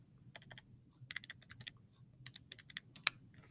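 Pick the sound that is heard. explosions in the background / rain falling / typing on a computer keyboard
typing on a computer keyboard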